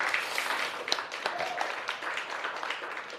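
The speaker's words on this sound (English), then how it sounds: "Round of applause from the audience" Audience at a retail technology trade show gives a round of applause, a steady dense wash of many hands clapping at moderate level for a few seconds with no one speaking.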